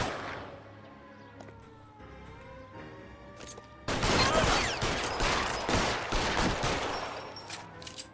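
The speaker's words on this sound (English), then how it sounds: "Shots fired. Suspect is down." L.A. Noire shootout: after a tense lull, a sudden burst of rapid, overlapping gunshots erupts and continues in loud, crackling volleys.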